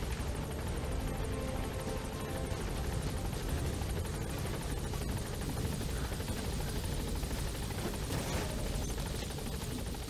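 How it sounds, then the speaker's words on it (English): Extraction helicopter in the video game Metal Gear Solid V, a steady loud rotor thump and engine drone filling the whole stretch with no talk over it. "Let's just get our old buddy Miller here to the extraction chopper."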